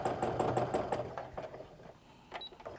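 Sewing machine stitching rapidly during free motion quilting of a double loop meander, a fast, steady mechanical chatter that tapers off into a few softer clicks.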